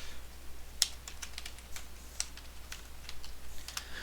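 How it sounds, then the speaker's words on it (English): Keystrokes on a computer keyboard during a calculus lesson on limits: a few sparse, light clicks scattered over a quiet background, close and faint, with no talking. "it would help if I typed F there"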